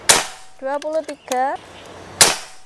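Two sharp, loud PCP air rifle shots about two seconds apart, with a man counting aloud in Indonesian in between.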